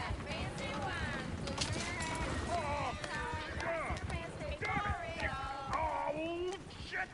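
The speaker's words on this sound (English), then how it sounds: "Oh, shit, the horses!" Horse hooves clip-clop steadily in Red Dead Redemption 2, mixed with whinnies and busy background sound while people talk over it.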